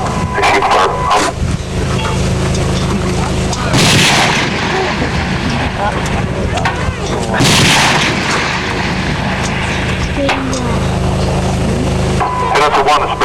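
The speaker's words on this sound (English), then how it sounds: "First engagement will be the M107 50 cal. It's about 75 meters in front of you at this time." An M107 .50 caliber rifle fires at a military live fire exercise about 75 meters away, with two heavy booming reports spaced several seconds apart over constant outdoor rumble and background noise.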